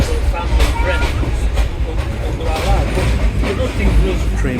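A moving train on the way to Yala rumbling along the rails, loud and close, with a continuous low roar and faint rhythmic clatter, and voices talking over it at times.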